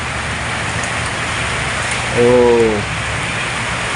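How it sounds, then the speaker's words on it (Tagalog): Steady rain pours beside a house in the late afternoon, a loud, even hiss of falling and dripping water, briefly joined midway by a short voiced exclamation. "umuulan na"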